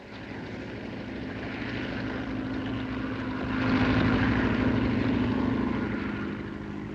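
A propeller airplane drones overhead in a 1940 Hitchcock film, a steady broadband engine roar that swells slightly louder halfway through as it passes, with no voices.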